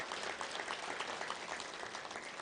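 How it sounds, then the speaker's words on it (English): Steady, dense applause from a luncheon audience at a football touchdown club gathering, a full room clapping evenly throughout without a break. "Number 14, worth a round of applause."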